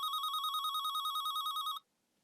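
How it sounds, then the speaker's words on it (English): A telephone rings with a rapid trilling electronic bell for nearly two seconds, loud and clear, then stops abruptly into silence. "when his phone rings"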